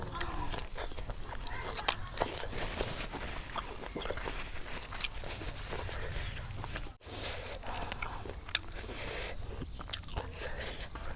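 Crunchy chewing of shellfish (หอยเดื่อ and หอยเลื่อย) eaten with seafood dipping sauce, close-up bites and wet crunching repeating steadily with faint background rustle.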